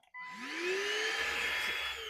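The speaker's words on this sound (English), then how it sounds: "it's not any louder than a normal vacuum cleaner, I don't think." An Anyglad cordless handheld vacuum cleaner switches on with a quick spin-up and then holds a loud, steady high-pitched whine and motor hum, close by, with nothing else heard.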